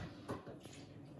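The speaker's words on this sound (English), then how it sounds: "And in goes the water." Water poured from a container into a bowl of flour and salt for pizza dough, a brief soft splash and trickle heard close up in a quiet kitchen.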